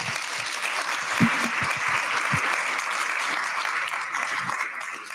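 Audience applause fills the room at the Startup Chippewa Valley closing keynote: steady, dense clapping held at an even level for about five seconds, with a few sharper claps near the start.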